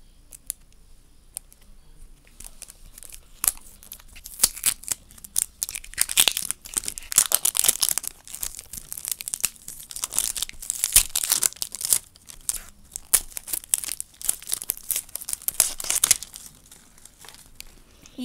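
Crinkly plastic wrapping being torn and peeled away from an L.O.L. Surprise Bling toy ball, with dense rustling, crumpling and tearing close up, growing busier through the middle and easing off near the end.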